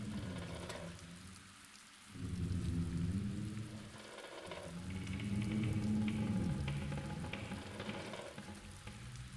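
Rain and cold wind pour through a hole in a broken window in the game The Black Mirror, a dense hissing patter that swells and eases, steady and close, with no voices.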